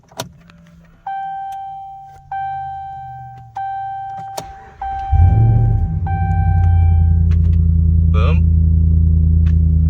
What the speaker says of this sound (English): Boom. Truck's running.